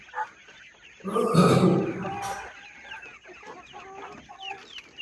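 Caged chickens kept together with quails cluck and squawk at close range, with one loud burst of flustered calls early on, then scattered softer clucks and chirps.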